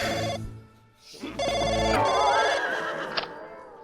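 A telephone rings in repeated electronic bursts, with a short pause between them, fairly loud and close over a low background hum.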